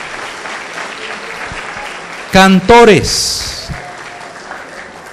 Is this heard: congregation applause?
yes